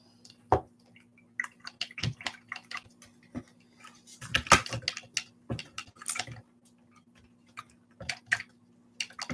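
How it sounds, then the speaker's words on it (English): A paintbrush is rinsed in a cup of water during a 4th of July craft, giving quiet, intermittent drips, small splashes and light taps against the container, with short pauses between and no talking. "We're just going to rinse our paintbrush out."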